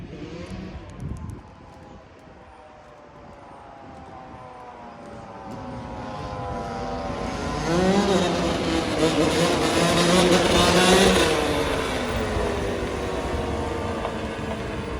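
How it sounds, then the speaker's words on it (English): Dirt bikes riding on a city street in North Philadelphia, engines droning from a distance and then revving louder as they pass close by, the rising and falling whine filling the steady street noise. "let's stop for this quick break and watch these dirt bikes"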